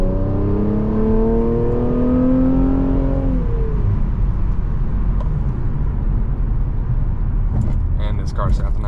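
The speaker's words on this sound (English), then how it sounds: "When you actually have your foot all the way down, the MBRP exhaust sounds super good." A tuned Infiniti Q60 with an MBRP exhaust accelerates hard, its engine note rising steadily in pitch over a few seconds, then dropping after a shift into a steady loud drone. Some faint clicks and noises appear near the end.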